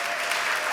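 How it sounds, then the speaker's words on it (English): Dense audience applause at a showcase event, steady and full throughout without pause. "Give yourselves a big round of applause"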